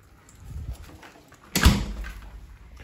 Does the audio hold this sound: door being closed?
yes